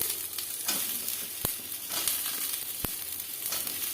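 Carrots and eggplant with other vegetables fry steadily in a pan, a close, continuous sizzle with a couple of sharp utensil taps against the metal.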